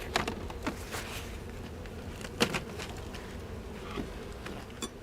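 Honey bees at a hive that has just been smoked, in a small combined swarm, buzz faintly and continuously, with scattered close passes and light ticks and taps over a quiet background.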